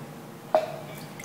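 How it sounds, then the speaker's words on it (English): Water poured onto the front of a potter's wheel for a wet wire cut while throwing a vase: one short, quiet splash and drip midway, with faint room hush around it. "water on that front side of the wheel, and this is called the wet cut"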